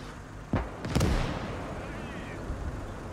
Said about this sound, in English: I thought we had some counter artillery coming in.